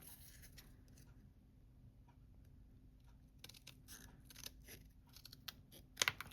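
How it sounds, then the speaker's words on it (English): Quiet, close snipping and crunching of strong Tim Holtz craft scissors cutting through stiff material to make a paper tree, a few sharper cuts near the end over a faint hum. "you'll have to use some like stronger scissors"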